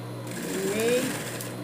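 A sewing machine stitching fabric for a dog shoe, a brief run of fast, steady, close mechanical whirring, with a voice speaking faintly alongside.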